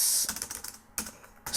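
Code being typed on a computer keyboard: quick bursts of close, crisp key clicks with a short pause between flurries, no voice.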